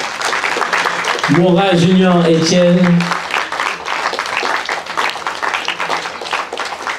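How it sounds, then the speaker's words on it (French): Audience applause before a film screening in France: a crowd claps steadily throughout, while a voice announces names over it early on. "Je vais vous demander d'applaudir jusqu'à ce qu'ils viennent."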